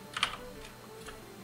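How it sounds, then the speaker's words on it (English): Keystrokes on a computer keyboard as a filename is typed at an MS-DOS prompt, then Enter is pressed: a quick cluster of close clicks followed by a few softer, spaced taps, fairly faint over a quiet room hum with no talking. "Test.bat, for example. Hit enter."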